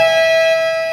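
A basketball game buzzer gives a single loud, steady electronic tone that holds for under a second.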